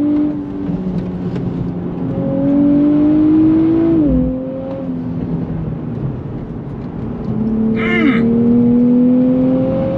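A 2024 Nissan Z NISMO engine revs hard under full throttle and climbs steadily in pitch, drops briefly at a paddle gear shift, then pulls up again, loud and close throughout.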